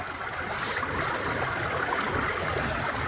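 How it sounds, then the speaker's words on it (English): Water sloshing and washing steadily over a gold pan during panning, a continuous near rushing trickle with no talk. "I'm just kind of like washing the water over it like that?"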